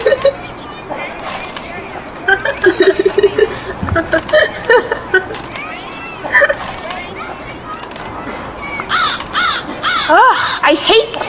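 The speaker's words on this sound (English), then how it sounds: "I hate crows!" Crows cawing in an audio play, a series of harsh repeated caws in irregular bursts, fairly close and loud, with spoken dialogue mixed in.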